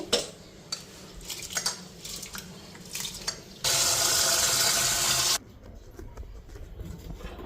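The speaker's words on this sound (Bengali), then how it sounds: "ওইদিকে এখন চালটা ধুয়ে নিই" Rice being rinsed at a kitchen sink: light clinks and shuffling of dishes, then a loud steady rush of tap water for about two seconds before it cuts off, close by with no talk.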